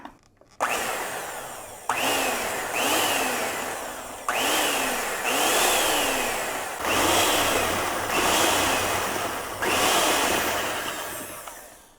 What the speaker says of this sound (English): You still want to start really, really slow with your mixer,